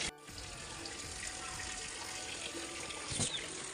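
Water runs steadily from a tap into a sink while clothes are washed, a continuous close splashing flow throughout with a brief stronger gush near the end.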